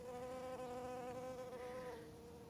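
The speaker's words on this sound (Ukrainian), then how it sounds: "бджоли вже працюють" A close, steady bee buzz over flowers with a clear droning tone that wavers slightly in pitch, heard alone.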